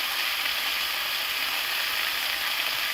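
Beef liver sizzling and frying in a pan, a steady, loud, continuous crackle with no voices over it.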